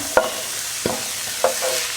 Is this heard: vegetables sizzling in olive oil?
yes